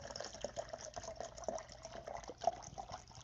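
Water pours from a half-gallon Igloo jug in a steady trickling stream, close by and moderately loud, with a few splashy bumps along the way and no talking.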